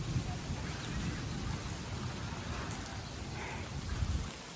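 Soft, continuous rain patters down evenly on trees, a quiet steady shower with a low rumble underneath.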